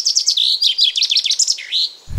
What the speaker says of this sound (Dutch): Hij eindigt met de vinkenslag en dat is heel typisch.